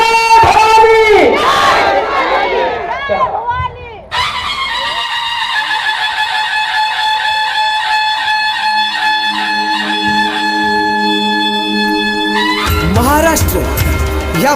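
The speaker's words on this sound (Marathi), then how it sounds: "जरा जोरात टाळ्या वाजवायच्या आणि म्हणायचं जय भवानी" A crowd at a Maharashtrian stage dance show roars a loud chant of Jai Bhavani, the voices rising and swelling for a few seconds before loud music with shouting carries on, then a fresh burst of crowd shouting near the end.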